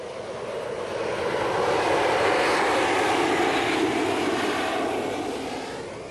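A steady, broad roar of a Harrier vertical takeoff jet engine swells and holds for several seconds before easing slightly, with no voices.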